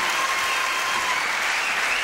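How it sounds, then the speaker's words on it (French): A television studio audience applauds performers with full, steady clapping that stays dense and unbroken from start to finish. "qu'on peut applaudir encore parce que beaucoup de talent"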